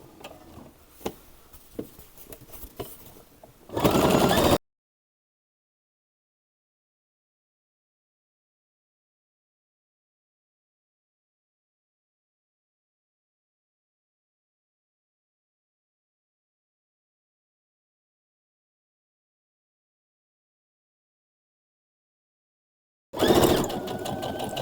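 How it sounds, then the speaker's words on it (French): A sewing machine stitches a seam in short, close, steady runs, one near the start and another at the end, with a long silent gap between them. "je vais doucement pour joindre la couture que nous avons débuté ici"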